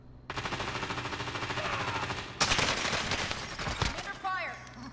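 Sustained automatic gunfire in Call of Duty Modern Warfare, a long rapid burst of shots followed by heavier close bursts and scattered single reports, with brief voices in between.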